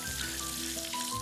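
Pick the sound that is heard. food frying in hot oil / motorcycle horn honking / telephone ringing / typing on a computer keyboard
food frying in hot oil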